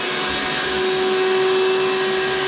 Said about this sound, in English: So what I want to do then is to just try this battery on the vacuum cleaner.